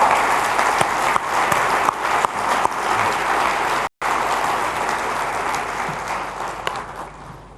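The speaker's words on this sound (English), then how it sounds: "let's hear a thunderous round of applause" Conference audience at the India Today conclave bursts into sustained, dense clapping that stays loud and steady with a momentary cut partway through.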